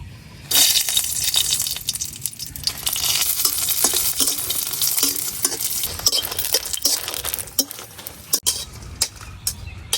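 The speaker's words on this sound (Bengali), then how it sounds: "অল্প তেলে প্রথমে শুকনো মরিচ গুলা বাইচে নিলাম" Dried chilies frying in a little oil in a pan, a loud continuous sizzle broken by repeated sharp clinks and scrapes of a spoon stirring against the metal, close up with no talk.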